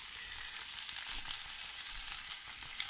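Chopped onion fries in a pan as the base of an omelette filling, giving a steady bright sizzle with light crackle throughout, close and fairly quiet.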